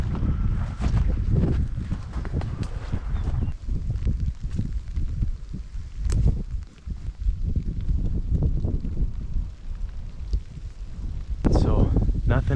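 Strong wind roars and buffets steadily over a cold, rainy open field during spring turkey hunting, with gusty broadband rushing and microphone buffeting filling the whole stretch and a louder surge near the end.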